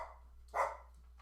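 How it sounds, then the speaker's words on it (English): A pet dog named Scout barks once indoors, a short loud burst in the middle over a quiet room hum, with faint yips trailing after. "Sorry about the dog."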